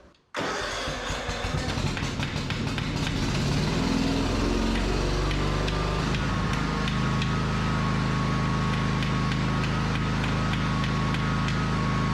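A small petrol lawn mower engine without a working choke starts up and runs, a loud, steady, close engine drone that holds throughout with slight roughness early on.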